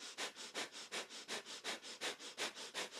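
Rapid, forceful nasal breaths of a kundalini yoga breath-of-fire exercise, about four sharp sniffs per second in a steady unbroken rhythm, close and fairly loud with no talking.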